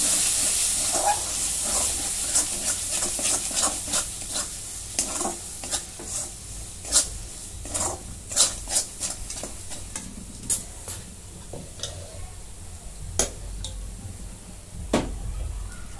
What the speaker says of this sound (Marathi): आणि हा एव्हरेस्टचा पावभाजी मसाला. परतून घेऊ.